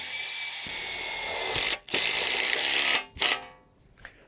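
A power drill drives screws into the bow joint of a Gothic caterpillar tunnel frame, whirring steadily for a couple of seconds, then two short bursts follow after brief pauses, all fairly close and without talk.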